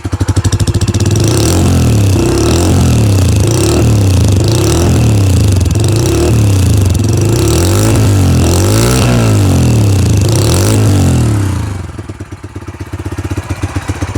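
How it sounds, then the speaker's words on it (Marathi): A CNG motorcycle engine revs repeatedly, loud and close, its exhaust rising and falling in rhythmic surges before dropping back toward idle. "मी आता रेव करून तुम्हाला दाखवतो नोट कशी आहे एक्झॉस्टची"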